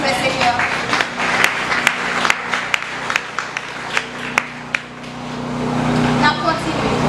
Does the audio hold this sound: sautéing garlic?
no